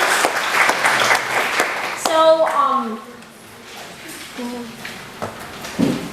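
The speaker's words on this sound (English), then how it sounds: "So let's give a round of applause for our incoming students." A lecture audience at a UC Berkeley psychology undergraduate information session gives incoming students a short burst of clapping. It thins to a few scattered claps as a voice starts speaking.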